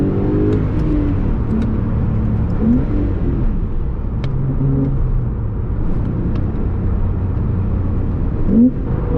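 Porsche 911 Carrera T with a seven-speed manual gearbox and reduced sound insulation, heard from inside the cabin: a loud, steady engine drone with brief rising revs, continuous throughout.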